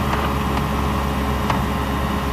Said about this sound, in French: On va tester le moteur.